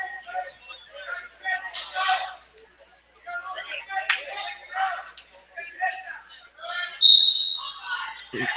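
Sharp referee's whistle blast near the end at a prep school wrestling championship in New York, heard briefly over lively commentary and crowd noise.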